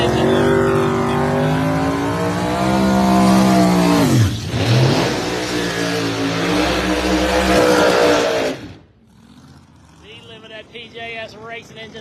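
A drag racing car with a PJS Racing engine and SSI Roots blower revs hard and loud up close, pitch climbing, dipping, then climbing again before cutting off abruptly, leaving quieter crowd and a voice behind.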